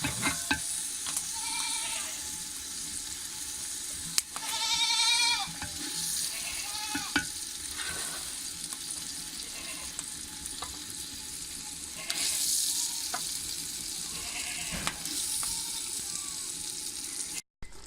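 Saag greens frying in a pan in a village-style kitchen, a steady sizzle running throughout with repeated stirring scrapes and occasional louder bursts of crackle.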